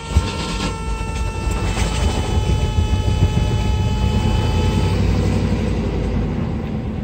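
A 1986 Mercedes-Benz 380SL engine idles steadily after its high idle settles, a constant low mechanical drone with faint tonal whine and no one speaking.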